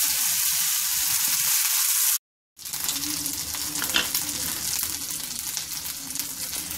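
Ground paste hitting hot oil with curry leaves in a pan for pirandai thokku: steady loud sizzle, a brief silent cut, then quieter continuous frying with faint stirring.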